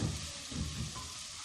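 Peas and softened tomatoes fry in a pot with a soft, steady sizzle and faint stirring, quiet and close, with no talking.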